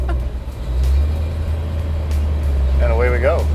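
Custom Cadillac built by Kindig-it, engine droning loud and steady under full throttle, a low rumble throughout with a brief voice near the end.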